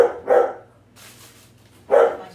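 A dog barks at the garbage cans being brought in outside a home: two quick barks, a pause, then a third, loud and fairly close, over a faint steady hum.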